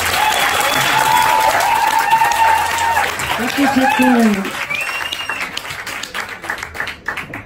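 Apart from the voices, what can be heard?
audience applause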